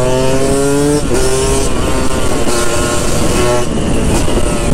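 A Kawasaki Ninja motorcycle engine running loud and close while being ridden, a steady droning roar with strong harmonic tones that shift pitch as the throttle changes.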